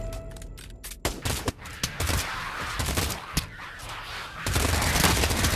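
Gunfire in the Pavlov VR shooter: bursts of sharp shots and rapid automatic fire, some close and loud, others farther off, with a heavier sustained burst near the end.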